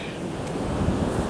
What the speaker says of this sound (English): Goddamn wind's getting up.